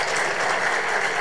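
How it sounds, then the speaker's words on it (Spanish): Strong applause from an audience of families at a school theatre presentation, a steady dense wash of clapping that fills the whole moment at a moderate level. "Lo hacemos con un fuerte aplauso."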